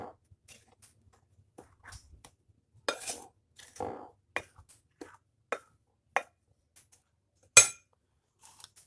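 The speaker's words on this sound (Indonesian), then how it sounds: "Kita aduk rata." A spoon clinks and scrapes against a mixing bowl in sparse, irregular taps while milk powder is stirred into cakwe dough in a home kitchen, close and fairly quiet with gaps of silence between strokes.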